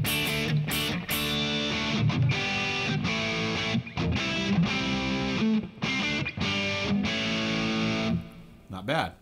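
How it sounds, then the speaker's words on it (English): Bass guitar played through a Kemper Profiler clean patch with only reverb and a noise gate, a close, loud run of punchy picked notes and short riffs with gated cutoffs between phrases. "So here's the bass tone."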